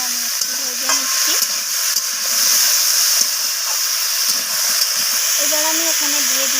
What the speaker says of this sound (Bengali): এইভাবে নাড়াচাড়া করে আমি একটু ভেজে নিচ্ছি